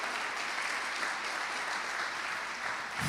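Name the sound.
church congregation clapping for Jesus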